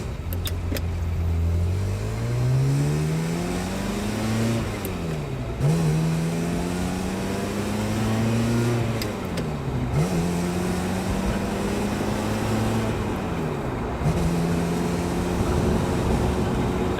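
A Ferrari F355 Spider engine drives with the roof down, revving up through the gears. The pitch rises in long steady climbs, then drops at each shift, loud and continuous with no talk.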